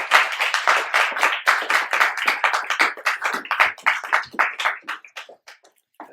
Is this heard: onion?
no